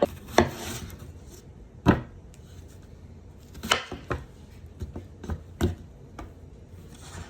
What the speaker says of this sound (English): cut up a fucking onion